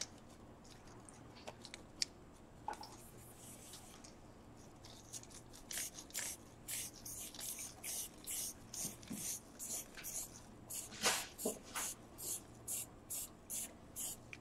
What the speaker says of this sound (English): just don't spray up there